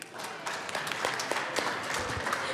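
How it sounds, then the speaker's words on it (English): Applause in a state legislative chamber welcoming visiting nurses in the gallery: a moderate, steady patter of many hands clapping across the room, sustained throughout. "if we can give them a round of applause"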